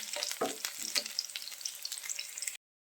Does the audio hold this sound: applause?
no